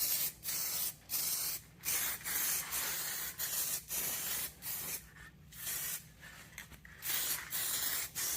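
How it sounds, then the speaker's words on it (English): Bursts of spray paint hiss onto a metal piece in a paint booth, about a dozen short, steady blasts separated by brief pauses, close and fairly loud with no talk. "I'm going to spray it right quick"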